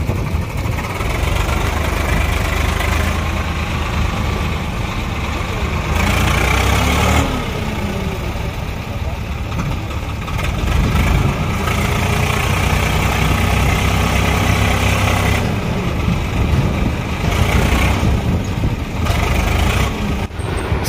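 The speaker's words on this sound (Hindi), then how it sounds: "दोस्तों ये है स्वराज 744 XT वीर तेजाजी वाला, जो कि फुल पावर में और फुल पावर दिखाएगा।" A Swaraj 744 XT tractor pulls a trolley loaded with about 230 quintals, its heavy diesel engine roaring loud and close in a steady, labouring drone with slight surges over twenty seconds, no voices.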